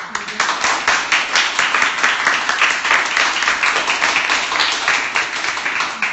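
A room of people applauding at a memorial archive broadcast in Ansan, continuous close clapping with individual claps audible, steady and fairly loud throughout.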